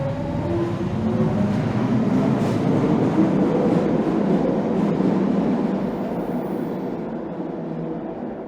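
A Toronto Line 3 Scarborough RT train rumbles loudly and continuously at Midland Station in winter, a dense, steady rolling roar that eases slightly toward the end, with no voices.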